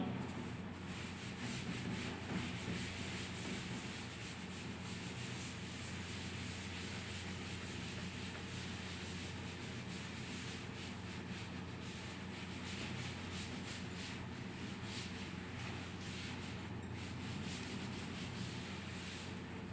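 Writing on a classroom board is rubbed out in a continuous, even scrubbing hiss that is faint and steady for the whole stretch, with no voices.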